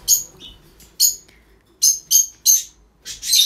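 A pet bird at home gives a series of sharp, high chirps in short bursts separated by brief pauses, close and fairly loud with no voices.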